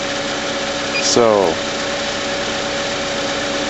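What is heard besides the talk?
car engine running at idle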